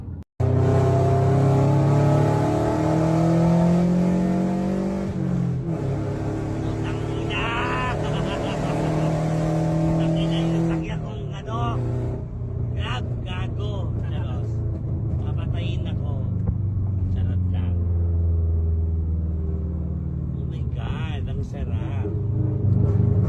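A car engine rumbles and revs during a ride, rising and falling with acceleration from inside the car. People talk loudly over the steady drone.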